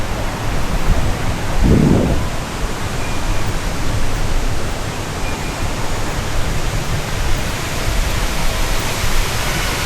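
The waterfall at the 1909 Wawa Dam in Montalban, Rizal, roars as a loud, steady, dense rush of falling water, with one brief low thump early on.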